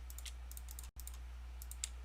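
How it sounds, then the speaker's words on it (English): Rapid light mouse clicks while playing Minecraft, several quick taps in a cluster then more after a brief gap, close and soft over a steady low hum, no talking. "Now I gotta just do a bunch of pointing and clicking here."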